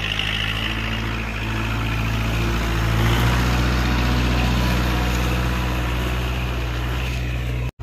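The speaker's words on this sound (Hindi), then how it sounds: "तो भाई इधर आ गया अपना ट्रैक्टर" A Kubota 4501 tractor's diesel engine runs steadily and close by at a field, a continuous low rumble with a slight swell partway through, heard alone without talk.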